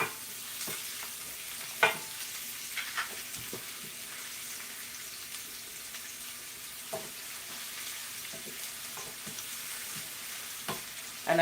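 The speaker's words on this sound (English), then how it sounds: "Now I'm going to go in with the onions, guys." Onions frying over medium-low heat in a pan for Jamaican fried dumplings, a soft steady sizzle with a few sharp clinks and stirring knocks, fairly quiet and close, with no talking.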